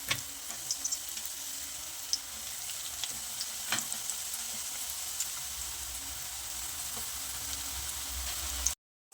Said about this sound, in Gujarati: એકદમ ઉકળતા તેલમાં આપણે શક્કરિયાની વેફરને ઉમેરી દઈશું.